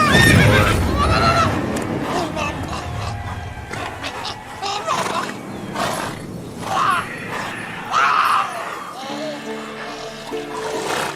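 Roach, a horse in The Witcher 3 video game, gives loud whinnies near the start and again midway, with hoof clops and game ambience between them and a voice speaking briefly.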